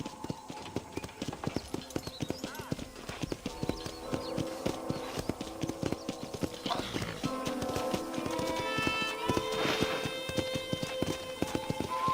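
Hooves clip-clop steadily at a horse corral in the Red Dead Redemption video game, a rapid rhythmic patter at moderate volume over background game music and tones.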